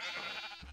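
A sheep bleats once in Minecraft, a short wavering nasal cry that is fairly quiet and heard alone.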